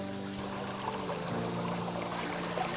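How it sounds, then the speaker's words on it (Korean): A natural stream flows steadily, its continuous gurgling and trickling water heard up close with a faint low hum beneath and no voices. "아, 이렇게 물소리 듣고 그러니까 난 참 좋네요."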